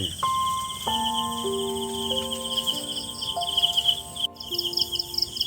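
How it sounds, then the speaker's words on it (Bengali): Crickets chirp steadily in a high, pulsing trill through a kitchen scene while aloo pakoras are made, accompanied by a few sustained whistling electronic tones and faint background rustle. "ঝিঁঝি পোকার ডাক, তাই না?"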